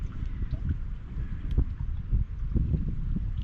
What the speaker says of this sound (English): It's pretty windy here and I'm 50 miles from the sea.